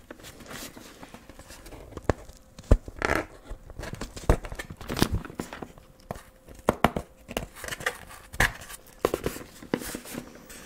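Tape is pulled and peeled off a package in repeated sharp rips, with crinkling and handling noises between the tugs, close up.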